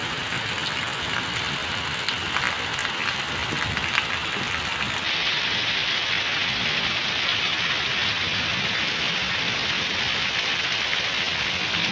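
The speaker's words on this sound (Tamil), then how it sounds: "மழை எப்படி வந்துட்டு இருக்கிறதையும் பார்க்கலாம்." Heavy rain pours around a house in a dense, constant roar of drops hitting surfaces. It stays loud and unbroken throughout, with no voices.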